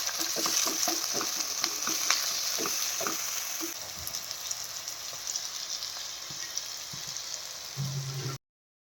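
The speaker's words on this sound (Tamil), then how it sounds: "தக்காளி நல்லா மசிஞ்சு வர்ற வரைக்கும் நல்லா வதக்கி விட்டுக்கோங்க." Onions and tomatoes sauté in a pan for a Tamil-style cauliflower gravy, giving a steady close sizzle with a few clicks of stirring early on and quieter frying toward the end.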